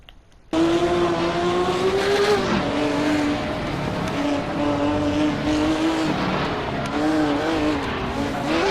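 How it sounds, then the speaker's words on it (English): A race car in the Hot Wheels video game roars loudly and steadily after a sudden start, engine pitch wavering with gear and speed changes, close and dominant with faint tire noise. "my car is loud"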